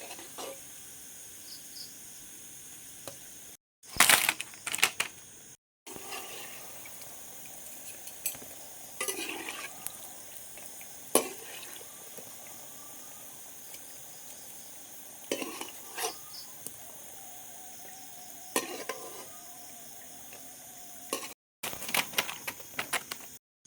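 Pitha fries in hot oil, crisping like bakery biscuits, with a soft, continuous sizzle broken by occasional scrapes and stirring clinks of a utensil against the pan, fairly quiet and close, no talking.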